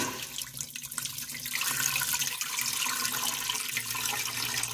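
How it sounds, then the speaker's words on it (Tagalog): Water pours steadily from a tap into a clean frying pan, a continuous bright splashing rush that stays loud and even throughout with no talking. "Sa malinis na kawali guys, maglalagay tayo ng tubig."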